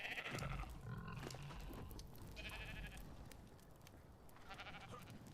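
Sheep bleating in the video game ARK Survival Ascended, set on the Aberration map, several fairly close calls layered over steady in-game ambience.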